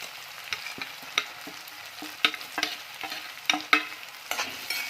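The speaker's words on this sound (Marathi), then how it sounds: "परतून घेऊया हे बघा कांदा आपला परतून झालेला आहे" A large onion sautés in a pan while a spatula stirs it, a steady close sizzle broken by repeated scraping clicks at an uneven pace, with no voices.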